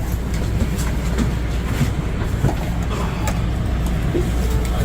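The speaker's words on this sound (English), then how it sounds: "Cool train." A train runs loud and close along the rail line with a constant rumble and a rattle of wheels and cars that does not let up.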